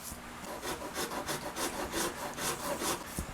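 A Shinto rasp files a guitar fretboard on a custom build in a quick run of about a dozen rhythmic scraping strokes, close and fairly quiet, with no talking.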